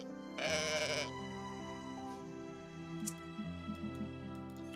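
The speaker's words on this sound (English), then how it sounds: "They scared the goats." A goat bleats once in the video game Mai Child of Ages, a loud, wavering cry near the start, followed by a quieter bed of game music and faint chimes.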